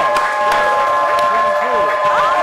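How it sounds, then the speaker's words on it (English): Studio audience applause and cheering for guests on a live entertainment show, a steady wash of clapping with whoops rising through it, loud and continuous across the whole stretch. "can we give these lovely ladies a round of applause in the audience?"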